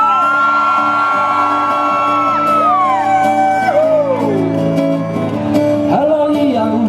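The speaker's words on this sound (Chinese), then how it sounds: "需要你们的尖叫声。" A concert crowd screams and whoops loudly with overlapping high yells and shrieks, sustained and close, rising in waves near the end.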